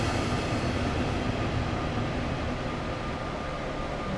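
Continuous rumble and rolling hum inside a double-deck passenger train on the Hamburg–Lübeck line in Train Sim World 2, a steady loud interior drone with no talking.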